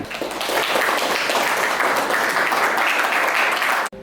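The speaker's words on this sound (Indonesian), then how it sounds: "Beri aplaus untuk Nuril." Classroom applause from a group of students during a lesson, a steady, dense wash of clapping that holds evenly for about four seconds before stopping abruptly.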